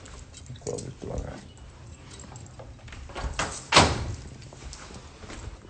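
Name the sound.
door being closed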